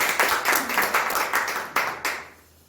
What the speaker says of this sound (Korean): 우리가 함께 박수를 하는 게 영광 올려드립니다